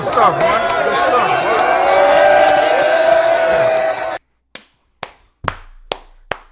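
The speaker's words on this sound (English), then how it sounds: "Clap it up, man." A crowd at a football setting cheers and whoops loudly and continuously, then the noise cuts out and a few sharp, separate hand claps ring out close by.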